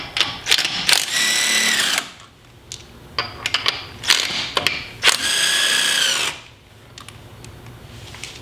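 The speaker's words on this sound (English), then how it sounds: "what I have right here is my DeWalt impact gun with an adapter and my 17-inch socket" A DeWalt impact gun fitted with an adapter and 17 socket loosens wheel lug nuts, giving several loud, close bursts of rapid hammering whine separated by short pauses.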